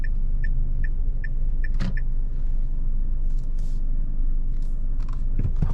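A Dacia Duster TCe 130 4x4 pulls out of a large garage at night, a steady low engine hum heard from inside the cabin with a few soft clicks and rustles over it.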